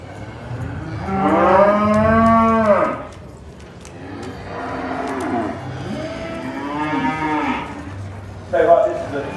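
Heavy purebred cattle at a livestock show let out several loud, drawn-out moos, one long call followed by softer lowing, close by and with no talk.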